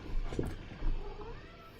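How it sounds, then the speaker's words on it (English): A cat meows a couple of times, fairly close and moderately loud, with soft background noise between the calls. "Meow, meow, meow."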